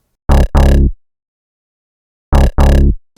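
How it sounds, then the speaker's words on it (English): Two pairs of short, buzzy synthesizer frog bass notes, each pair a quick double stab, separated by silence; loud and dry with a croaky, frog-like tone. "the frog sound on top of that sounds like this"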